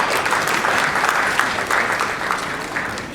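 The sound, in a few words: applause for senior partner at anniversary party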